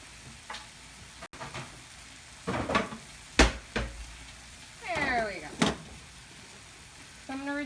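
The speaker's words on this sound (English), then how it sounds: "Go ahead and give this baby a stir again." Food sizzling in a pan being stirred while a salmon and rice dinner cooks, with soft scraping and clinking of a utensil against cookware over a steady low frying hiss, close by, and a brief voice in the background.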